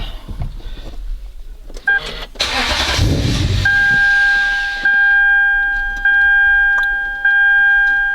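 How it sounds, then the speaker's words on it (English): A car fitted with a lightweight racing battery cranks and fires up, with an electronic chime and a short whir before a loud surge of engine noise, then a steady idle with a repeating dashboard warning tone. "Alright, let's see if the car will crank up."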